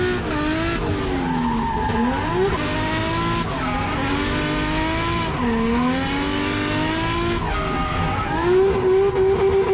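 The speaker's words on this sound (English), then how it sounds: "it sort of just lost all traction and flying off the track" Race car losing traction on a dirty track at a South Australian state series round, a loud engine revving with rising and falling pitch alongside repeated tire squeal and skidding.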